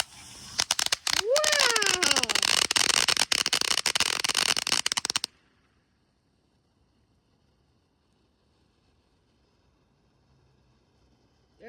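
A Statue of Liberty firework bursts into dense, loud crackling for about five seconds, with a voice calling out over it, then cuts off to near silence.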